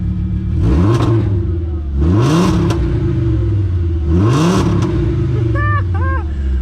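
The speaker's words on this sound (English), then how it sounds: "The V5 has such a good sound to it." A Volkswagen Mk3 Golf with a VR5 engine idles and is revved three times, each rev rising and falling, with a rough, throaty tone, loud and close.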